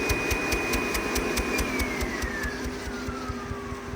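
Focus Cobra single-pass corrugated cardboard printer running with its conveyor and vacuum on, a steady mechanical hum with fast rhythmic clicking and a high whine that slowly drops in pitch, moderately loud and close.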